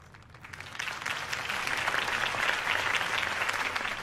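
Crowd applause at a political campaign rally in the Batman Telltale video game, a dense wash of clapping that swells in over the first second and holds steady and fairly loud.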